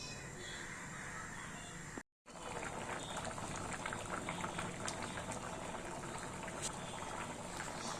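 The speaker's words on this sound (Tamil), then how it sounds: "நல்லா கொதி வந்துடுச்சு." Gravy comes to a boil in a pot, a continuous close bubbling and gurgling interrupted by a brief silence, with faint background noise and no talking.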